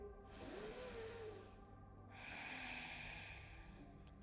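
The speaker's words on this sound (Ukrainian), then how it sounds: "І заключний глибокий вдих." Slow, deep airy inhales during a beginner yoga breathing exercise, two long close breaths rising and fading, quiet and without talking.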